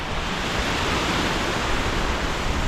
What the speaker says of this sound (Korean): 이거 파도 소리가 너무 커가지고 소리가 안 들어갈 것 같은데